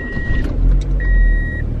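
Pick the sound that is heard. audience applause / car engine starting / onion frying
car engine starting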